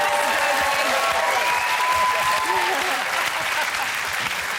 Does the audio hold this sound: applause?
yes